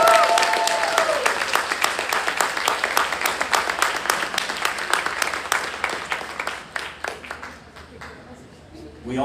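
Applause from a convention audience for the event staff, loud and dense at first, then thinning into fewer distinct claps as it tapers off near the end.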